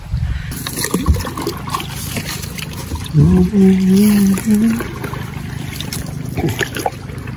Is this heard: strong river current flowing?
yes